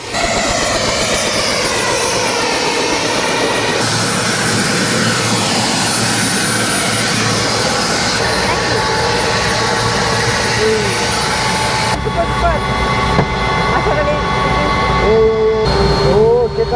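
A helicopter roars steadily and loudly throughout a sightseeing flight over the Great Barrier Reef, a dense whirring drone with no breaks, while faint voices occasionally come through.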